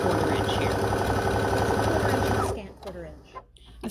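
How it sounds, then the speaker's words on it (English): A sewing machine runs steadily and loudly, stitching a pillowcase seam a little wider than a quarter inch, then stops partway through, leaving quieter handling noises. "So we're just going to sew a little bit wider than a 1/4 inch here."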